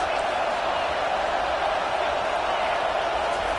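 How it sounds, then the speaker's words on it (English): A stadium crowd roars at a Penn State vs UCLA college football game, a dense, steady wash of massed voices with no break. "This crowd trying to make life miserable for this offense."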